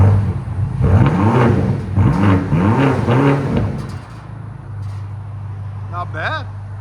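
A 2023 BMW XM with a 4.4L twin-turbo V8 running straight pipes, an X-pipe and Borla ATAK exhaust, idling with a steady low drone and then swelling through several repeated revs. A voice talks over the engine sound.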